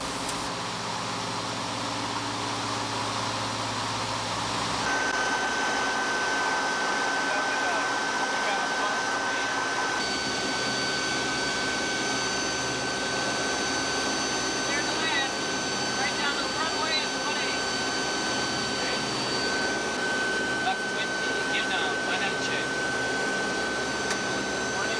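Piston engines of a DC-7C airliner throttled back for an instrument descent, a steady loud droning roar with a sustained whine, heard from inside the aircraft with no break.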